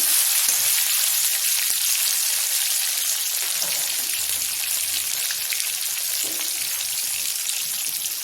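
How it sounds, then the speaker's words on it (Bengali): Cut tomato frying in oil in a pan, a continuous bright, crackling sizzle like light rain that holds evenly loud throughout with no talking. "এখানে দিয়ে দিচ্ছি কেটে টমেটোটা একটু ভেজে নেব"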